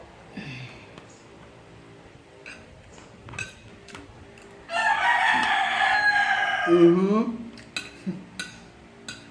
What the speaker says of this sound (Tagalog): Ang tunog ng isang manok.